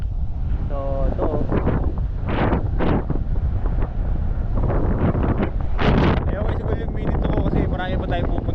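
Strong gusty wind by the sea in Bangui buffets the microphone, roaring continuously, while a voice speaks in bursts over it.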